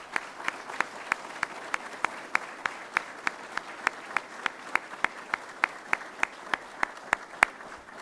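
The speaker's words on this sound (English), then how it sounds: "So give yourselves a round of applause." An audience at an ROTC commissioning ceremony applauds in a steady, sparse rhythm of distinct claps, moderately faint and evenly paced for the whole stretch with no talking.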